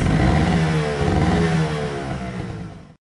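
A two-stroke motorcycle engine with a reamed carburetor, freshly set, revs loud and close in a sustained raspy burst, holding high then slowly dropping before cutting off abruptly near the end.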